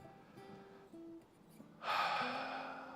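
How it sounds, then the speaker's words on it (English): A single deep breath drawn during a guided meditation, a soft airy inhale rising near the microphone and trailing off slowly, with no talk over it. "Take a nice deep breath."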